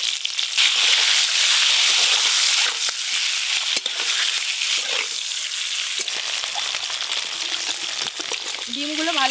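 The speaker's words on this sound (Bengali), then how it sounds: "তেল গরম হয়ে গেছে, ডিমগুলো ভালো করে ভেজে নেব।" Eggs fry in hot oil in a pan for an egg curry, a loud, dense sizzle and crackle that holds steady throughout, with brief stirring clatter and a short rising tone near the end.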